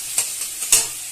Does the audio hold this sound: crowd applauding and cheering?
no